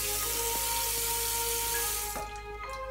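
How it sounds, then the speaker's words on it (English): Tap water running steadily into a spray bottle at a sink, a continuous close splashing flow whose pitch shifts slightly as the bottle fills, with a few small knocks and clinks. "Say like fill it halfway up with water."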